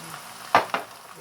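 Pad thai sauce hitting a hot frying pan, two sharp sizzling bursts in quick succession over a low background hiss, close and brief.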